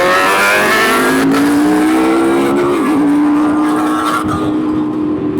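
A BMW HP4 motorcycle races by at a bike night, its engine screaming loud and high with a rising, sustained pitch close by, and no talk.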